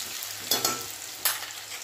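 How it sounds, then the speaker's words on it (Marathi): Chopped onion and chilli fry in a pan with a steady soft sizzle, broken by a couple of quick stirring scrapes; close and moderately loud, no voices. "आता कांदा छान तांबूस होईपर्यंत आपल्याला भाजून घ्यायचा आहे"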